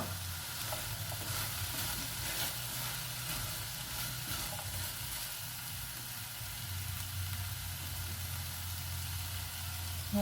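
Vegetables sweating in a pan with dates, a steady loud sizzle with a low continuous hum beneath, running evenly throughout with no talk.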